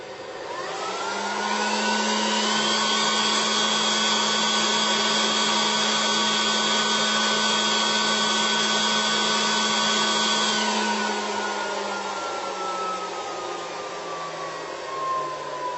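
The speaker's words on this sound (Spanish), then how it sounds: "pone los ventiladores a máximas revoluciones" Loud, steady whirring of server fans running at full speed with a high whine, winding down gradually toward the end.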